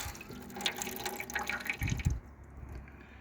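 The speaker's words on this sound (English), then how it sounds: "Yeah, it looks like I have a working faucet." Cold water runs from a newly installed faucet into a food-service bin used as a sink in a camper van, a steady splashing trickle with drips, quieting abruptly near the end.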